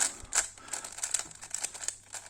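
Plastic clicks and rattles from an FTO twisty puzzle being turned quickly to scramble it, a rapid, irregular string of close, crisp snaps.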